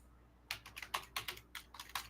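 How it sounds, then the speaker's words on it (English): Keys clatter on a computer keyboard in a quick, irregular run of about a dozen crisp taps, close up and moderately quiet, with no talking. "my typing's terrible today"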